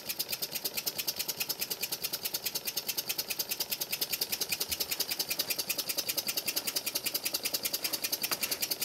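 A small twin-cylinder wig-wag duplex steam engine runs slowly and steadily after self-starting, giving a close, even stream of soft rhythmic beats that continues unbroken throughout.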